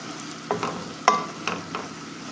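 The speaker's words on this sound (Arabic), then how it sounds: "هنبتدي بقى ان احنا نقلب" Flour stirred into melted ghee in a pan, heard as a handful of soft scrapes and light clinks from the spoon over a faint steady sizzle.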